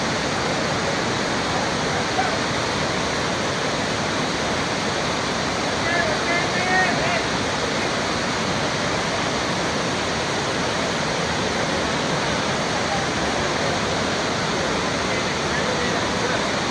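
Baabijhari waterfall at Kerameri roars as a dense, unbroken rush of falling water at constant loudness, with a faint voice surfacing briefly near the middle.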